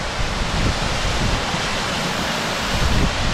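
A flushed fire hydrant gushes water in a steady, loud, broadband roar. The rush holds unbroken for the whole stretch, with no voices over it.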